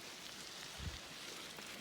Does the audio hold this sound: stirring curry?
no